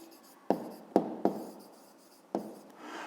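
Pen on paper while working out a grade 5 math exercise on car speeds: short scratchy strokes with a few sharp taps as the tip lands, close and fairly quiet, with no talk over it.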